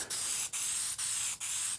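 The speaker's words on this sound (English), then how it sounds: "This is Krylon Matte Finish, and just spray it." Krylon Matte Finish sealant sprayed from an aerosol can onto a laser-charred surface: four close, hissing bursts, each about a third of a second, with brief gaps between them.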